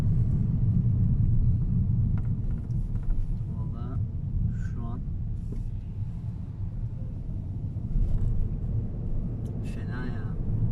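Peugeot 208 GT with the 1.2 PureTech 130 PS engine pulls hard at full throttle in traffic, a steady low cabin rumble and road drone running throughout while someone talks over it.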